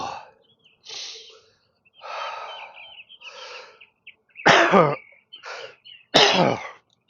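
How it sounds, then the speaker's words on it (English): A string of short, raspy coughs and throat-clearing bursts, close and fairly loud, separated by brief pauses, with the last two the strongest. "This is a coughing video."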